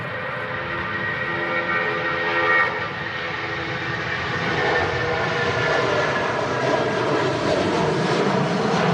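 A Boeing 757 airliner roars at Manchester Airport in a strong crosswind, its jet engines producing a loud, sustained, broadband rumble with whining tones that swells slightly as it passes, with wind noise and no talking.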